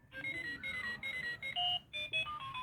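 A talking silver wristwatch with a metal strap plays its alarm tone, a chain of bright electronic beeps in a short melody with brief gaps between the notes, close and clear.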